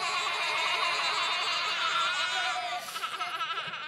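A group of children in a church Christmas program bleat together to imitate sheep, a loud chorus of wavering baa sounds that sustains and then breaks into scattered giggly voices.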